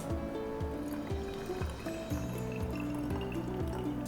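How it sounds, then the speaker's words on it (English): Water is poured from close range into an ice facial stick mold, a soft steady trickle with rising fill tones and small splashes as the mold fills. "To see how much volume my mold can hold, I am going to pour water into it."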